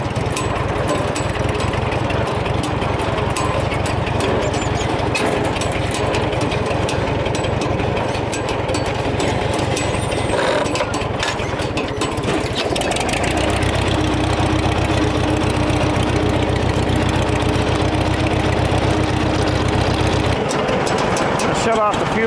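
A farm tractor engine idles steadily while hay is fed, a constant low rumble with a rapid knocking pulse throughout, and someone talks over it.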